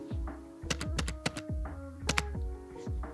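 Soft clicks of typing on a SteelSeries computer keyboard, used with a Mac at an editing desk: a near, irregular run of about a dozen keystrokes with short pauses, no talking.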